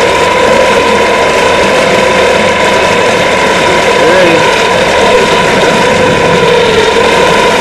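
A converted 1965 Tecumseh horse-and-a-half outboard boat motor, now electric with liquid-cooled hoses and a battery pack, runs steadily with a loud, continuous mechanical whir and rattling gear noise throughout.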